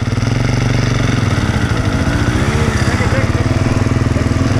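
A hard enduro motorcycle engine revs close and loud, its throbbing exhaust note rising and falling as the throttle opens, with shouted voices partly over it.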